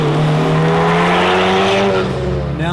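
A tuned 10th-generation Honda Civic Type R with an ECU flash drives on a street. The engine drones loudly and steadily close by, its pitch climbing slowly under acceleration and easing off near the end, with no talk.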